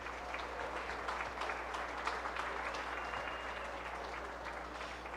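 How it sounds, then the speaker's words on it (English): An audience at a county fair Farm Bureau ambassador contest claps in a sustained round of applause, distant and fairly quiet against a low hum, with no voices on top. "Let's give them all a nice round of applause."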